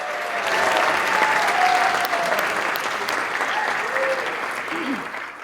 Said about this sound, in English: give one more big round of applause for Mary and Rodrigo here